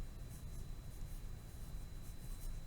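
Pencil writing on a paper worksheet during a math lesson about trapezoids and triangles, a steady soft scratching that runs continuously and close, with no talk over it.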